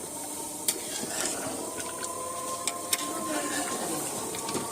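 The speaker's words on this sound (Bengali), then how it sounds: "এই যে আমাদের মাংস রান্না হচ্ছে" Meat curry with potatoes cooks in a pan on an outing, giving a steady close sizzle and hiss with occasional stirring scrapes and clicks.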